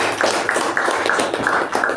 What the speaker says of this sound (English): Let's give a huge round of applause to all the 3 speakers and the evaluators